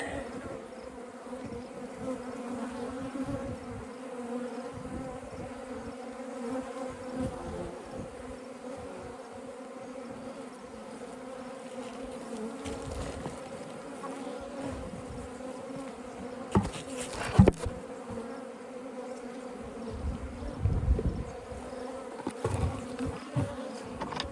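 Honey bees in a mite count sample of a couple hundred bees buzz steadily and fairly faintly up close, a dense continuous drone with a few louder rustles and bumps near the end.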